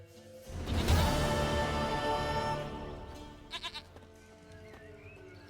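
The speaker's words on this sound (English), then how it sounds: "Goat of mine, dearest," Goat bleating in The Witcher 3: Wild Hunt, one long loud wavering bleat close by, followed by a few short quieter bleats and an abrupt noise at the very end.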